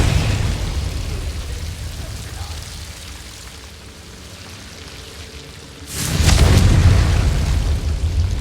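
Confringo blasting spells from the video game Hogwarts Legacy, with a low rushing game ambience followed by a loud, sudden burst of explosive blasts and crackling debris that stays heavy to the end.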